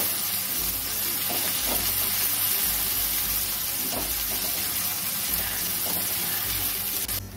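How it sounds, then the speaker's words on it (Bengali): A paste of ginger, onion, garlic and ground green chillies sautés in a pan for fish curry, giving a steady close sizzle and hiss with a few soft stirring scrapes and no voices. "কাঁচা লঙ্কা বাটাটা দিয়ে ভালো করে কষিয়ে নেব"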